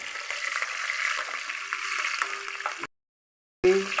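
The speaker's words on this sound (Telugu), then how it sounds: "అది కరివేపాకు వేసి మిక్స్ పట్టిస్తాను" Curry leaves fry in hot oil in a pan while being stirred for a stuffed brinjal masala curry, a steady close sizzle with scraping strokes that cuts out briefly, then returns as a louder burst of crackle.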